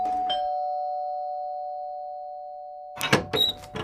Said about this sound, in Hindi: वेदांत के मन में चलती इसी लड़ाई में डोरबेल की आवाज ने दखल दे दी।